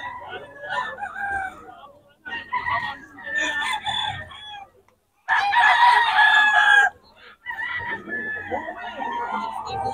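Stag roosters crowing repeatedly at a busy market in Bocaue, loud close crows in bursts with short gaps, mixed with clucking and people talking.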